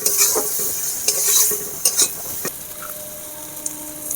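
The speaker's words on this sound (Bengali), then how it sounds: "ভালো করে ভেজে নেব।" Spices and salt fry in a pan for egg chicken pasta, a close, steady sizzle broken by several sharp scraping strokes of a spoon stirring against the metal.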